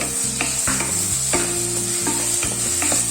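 Onion and finely chopped capsicum sautéing in a pan for Mumbai-style pav bhaji, with a loud, close sizzle and a regular rhythm of spatula strokes scraping the pan.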